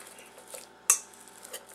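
A spoon stirring an egg and feta cheese mixture in a bowl, soft scraping with a sharp clink against the bowl partway through, quiet and close with no talking.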